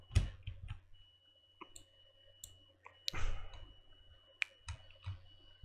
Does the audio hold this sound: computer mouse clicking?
yes